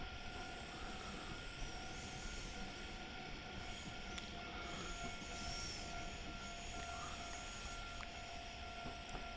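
A train running in Train Simulator Classic, a steady loud rumble of wheels and engine with a continuous high whine and brief squeals, filling the whole stretch with no voices.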